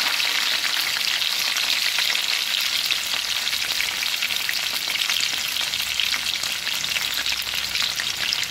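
Green chilies, a dried red chili and chopped garlic fry in hot oil, giving a loud, dense, unbroken crackling sizzle close up.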